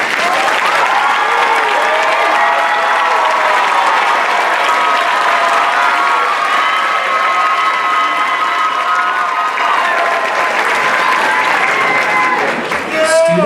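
Loud, continuous applause with cheering and shouts fills a hall at a Class of 2025 commencement as honors graduates stand, the crowd noise holding steady throughout with voices calling out.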